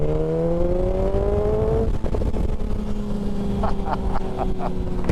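A sports tourer motorcycle engine runs close by with a steady rumbling drone, its pitch climbing then dropping as the revs rise and fall, heard over wind rush.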